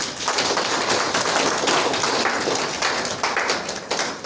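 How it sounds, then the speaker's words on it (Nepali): A church congregation claps together to welcome newcomers, producing dense, continuous applause that fills the room at a steady level throughout. "हामीले एकले आफूलाई ताली बजाएर स्वागत गरौँ"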